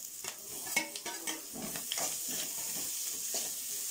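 Sliced onions and grated coconut fry in a pan while being stirred, with a soft sizzle under repeated scraping and clinking strokes that come quick at first, then the sizzle carries on more evenly.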